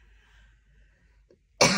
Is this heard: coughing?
yes